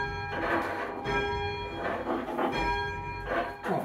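Church bells ring at St Ann's Church in South Tottenham, a dense wash of sustained metallic tones with strikes pulsing roughly every second, loud and close with steady overlapping hum.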